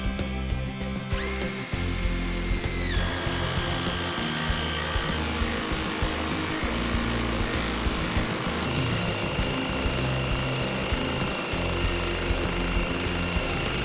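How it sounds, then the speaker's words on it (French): Impact driver sinking self-drilling screws into steel sheet: a loud, continuous high-torque whine and rattle with steady pitch shifts across the whole stretch, close and alone with no talk. "La machine qui offre le plus fort couple est une visseuse à choc"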